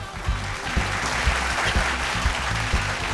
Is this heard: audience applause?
yes